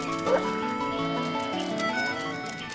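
Sheep bleating with dogs herding them in a German Teletubbies episode, short wavering animal calls set against a steady musical backdrop at moderate, even volume, with no talking.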